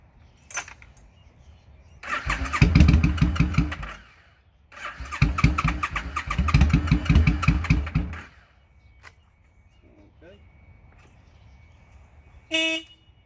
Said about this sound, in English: let's see if this old bike will crank up